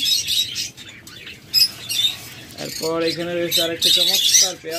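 Lovebirds of a local-bred breeding pair chirp in a rapid, high twittering chatter close by, continuing under a voice that talks over most of the clip.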